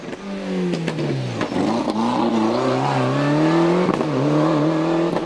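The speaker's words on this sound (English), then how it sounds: "The NAC Sierra cackles into sight for the first lap." A Sierra rally car at the 2001 Lark in the Park rally comes into sight on its first lap, the engine snarling and revving loudly and close, its pitch rising and falling through gear changes.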